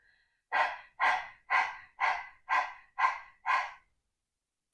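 Seven forceful, evenly spaced exhales through the nose in breath-of-fire breathing, close and loud, each a short sharp puff with silence between.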